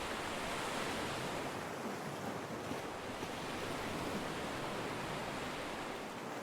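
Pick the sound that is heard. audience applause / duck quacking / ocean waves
ocean waves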